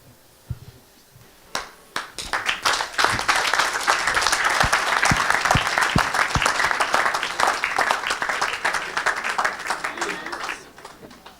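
A church congregation applauds for Jesus Christ at a live French-language service, scattered claps building quickly into loud, sustained rhythmic clapping that carries on for several seconds before thinning out and fading near the end.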